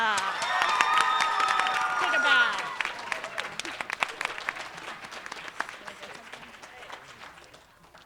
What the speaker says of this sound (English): could we have a round of applause for Cam Arcona?